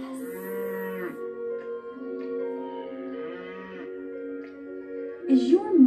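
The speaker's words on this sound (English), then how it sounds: "She grazes on grass and she likes to say moo." A cow moos in several drawn-out, tonal calls that rise and fall over a few seconds, close and fairly loud, with a brief louder burst at the end.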